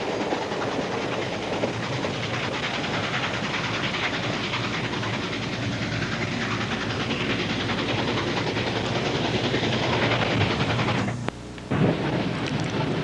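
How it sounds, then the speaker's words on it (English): An early-days steam-powered regular passenger train on a Toronto-area line passes with continuous rolling rumble and rhythmic wheel clatter. The sound stays loud and close throughout, with a brief dip near the end. "here comes a steam-powered regular passenger train in the early days"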